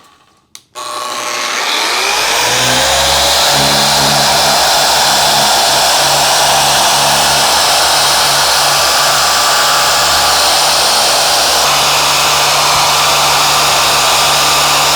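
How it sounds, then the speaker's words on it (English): A power buffer polishes deep scratches out of a plastic surface at a high speed setting, starting with a rising whine, then settling into a loud, steady, close motor roar with rough rubbing noise. "I'm using about light medium pressure while I am buffing."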